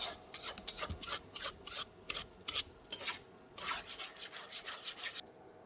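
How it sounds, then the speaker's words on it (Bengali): A spoon stirs a thick kalakand milk mixture in a pan, giving repeated soft scraping strokes in a steady rhythm, close and fairly quiet, with no voices. "এভাবে নাড়তে থাকতে হবে যাতে"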